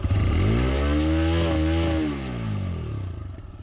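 TVS Raider 125 motorcycle engine revved hard toward 10,000 rpm, a loud rising whine that holds high, then drops and settles back near idle, close to the microphone.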